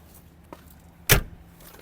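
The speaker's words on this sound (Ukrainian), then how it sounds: "Закрили дверку." The cab door of a Kubota GL-320 mini tractor swings shut with a single solid thud, preceded by a faint click of the latch, alone and close.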